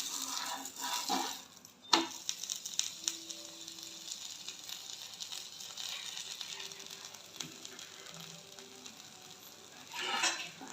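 Ukdiche thalipeeth (dhapata), a flatbread of cooked flour dough, frying on a hot pan just after being flipped. It gives a steady, close crackling sizzle with a sharp knock near the start and swelling hiss toward the end.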